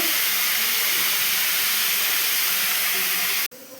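Water at a rolling boil in a cooking pot, ready for rice, gives a steady loud hissing, bubbling roar that cuts off abruptly near the end.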